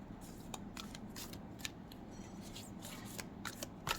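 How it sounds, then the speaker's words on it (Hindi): Tarot cards shuffled and drawn during a candle wax reading: a quiet run of soft riffling and sharp card snaps and flicks at close range, irregular in rhythm, with no talking. "एक और कार्ड निकाल लेते हैं।"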